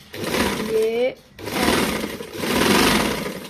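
A sewing machine stitching a dupatta runs in two short bursts of steady mechanical whirring, close and fairly loud, with a brief pause between them and someone speaking over it.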